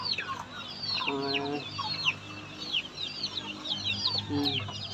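Hens cluck low and steadily while many small chicks chirp in high, busy peeps around a feeding spot. The sound is close and continuous, with brief pauses in the clucking.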